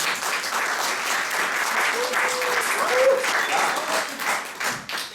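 An audience applauds steadily after a stage introduction at a Borges-themed talk event, dense continuous clapping with a few voices calling out over it, tapering near the end.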